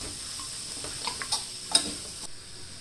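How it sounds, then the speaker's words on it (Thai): Rice noodles with kale and pork are stir-fried in a pan, a steady low sizzle broken by a few sharp scraping and clinking strokes of a spatula, with no voices. "คะน้าค่ะ ผัดค่ะ เราผัดให้เข้ากันก่อนนะคะ"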